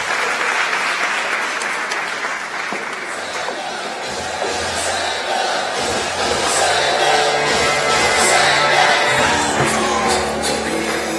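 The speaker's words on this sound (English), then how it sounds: "Another round of applause to the contestants." Sustained crowd applause for contestants at a live innovation competition, a thick continuous wash of clapping that swells slightly toward the end, with some low rumbling underneath.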